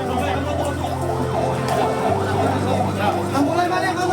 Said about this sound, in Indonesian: Banyak ambulan.